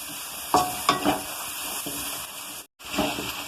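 Garam masala and spice powders for a pepper liver fry sizzling in a pan as they are stirred, a close frying hiss broken by a few scraping stirs and a brief gap of silence.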